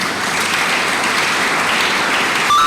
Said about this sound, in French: Je voudrais que nous puissions acclamer l'apôtre Thibautier qui est là.